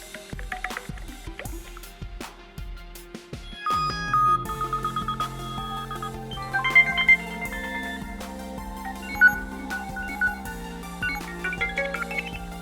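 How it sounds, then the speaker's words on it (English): HTC 10 phone ringtones and notification tones play one after another: soft plucked and chiming melodic phrases, bell-like notes and watery drips, clear and moderately loud with no talk. "On the ringtones, you know, HTC always has a great sounds."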